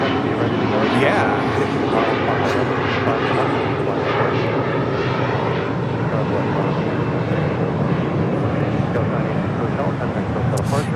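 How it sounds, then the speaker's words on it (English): Alaska SkyWest Embraer E175 jet airliner departing LAX for San Jose, a loud sustained engine roar that fills the whole stretch, with voices chatting faintly underneath. "That was Alaska SkyWest, Flight 3329, SkyWest 986 Hotel, departing to San Jose, California on an E175."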